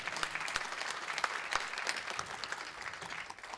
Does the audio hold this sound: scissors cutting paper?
no